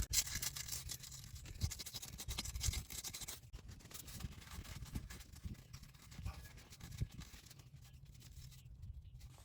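Wet/dry sandpaper scrubbing a hole in a metal engine block for a CAT 3116 block heater install, a steady close rasping scratch with rhythmic back-and-forth strokes throughout.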